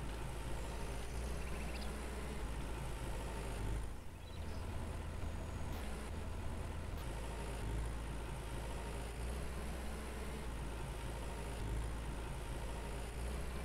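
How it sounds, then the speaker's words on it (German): An old tractor engine in the Farmer's Dynasty farming game, giving a steady, low, moderately faint idling rumble with no talk. "Okay, den alten Traktor benutzen."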